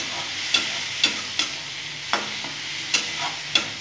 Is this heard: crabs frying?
yes